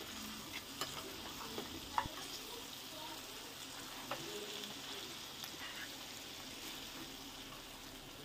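Crab curry (peethala iguru) being stirred in a pan, a steady low sizzle with faint scraping and occasional light clicks of the spoon, continuous and fairly quiet with no talking.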